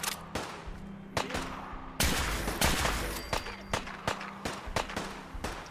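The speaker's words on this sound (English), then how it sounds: "While he's concentrated on fighting Piper, I shoot him from above." Gunfire in Fallout 4 as a synth eradicator is shot from above: loud, close bursts of rapid shots and sharp cracks with brief gaps between volleys, over a low rumbling game background.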